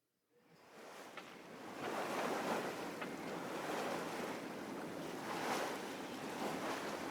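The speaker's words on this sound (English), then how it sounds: "You can hear the water." Ocean waves washing onto a shore under wind, fading in from silence into a steady rolling surf that swells and recedes, fairly soft and continuous with no talk.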